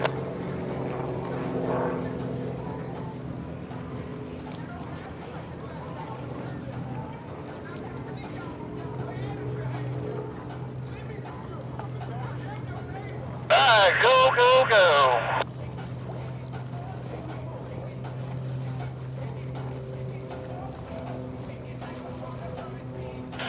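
A race boat makes its run at an airshow, its engine a steady, loud drone that continues throughout, with brief radio voice chatter partway through.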